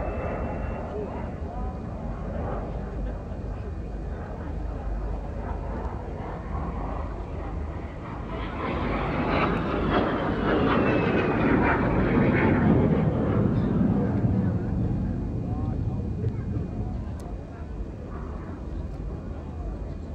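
A Norwegian Historic Flight de Havilland Vampire jet with 3,500 pounds of thrust performs at the Scottish International Airshow 2016, a distant jet roar swelling to a loud pass midway, then easing off under wind and crowd noise.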